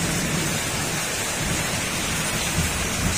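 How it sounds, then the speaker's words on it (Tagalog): Rain falls steadily outside during a thunderstorm, a dense, even hiss with a low rumble underneath, continuous and fairly loud with no talking. "Umuulan kasi sa atin dito mga sir."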